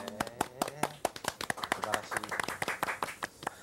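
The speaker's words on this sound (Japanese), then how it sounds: "スタッフ拍手してないでカメラを切り替えなさい。" Studio staff on a Japanese live broadcast of a solar eclipse special clap in a loose, uneven patter of sharp hand claps, moderately close, mixed with some background voices.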